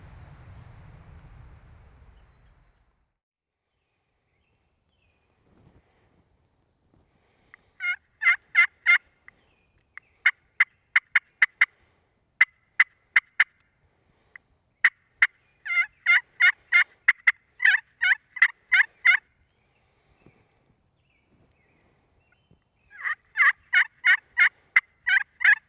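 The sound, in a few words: wild turkeys gobbling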